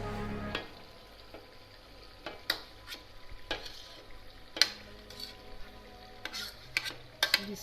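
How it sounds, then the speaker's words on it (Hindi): Spinach stirred into frying chicken and potatoes in a pot, with soft sizzling under scattered scrapes and clinks of a spoon against the pan, close and fairly quiet. "अब मैं इसमें डालती हूँ पालक।"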